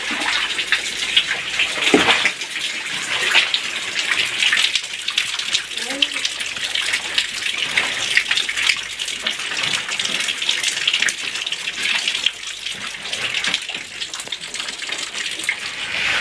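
Rainwater runs and splashes steadily through a shallow drain channel during rain, a continuous gushing flow with a few brief voices in the background.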